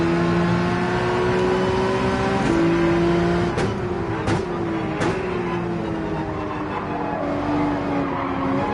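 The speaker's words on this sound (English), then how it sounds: "Come on, 911, you got that weight over the rear wheels." A Porsche 911 race car engine accelerating at Road Atlanta, a loud sustained whine rising in pitch with a few sharp gear-change breaks, close and continuous with no talking.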